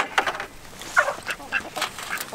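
Ducks quack on a farm, several short nasal calls scattered irregularly, fairly close and moderately loud.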